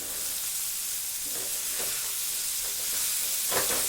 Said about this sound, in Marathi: आता टाकते मी यामध्ये कोबी.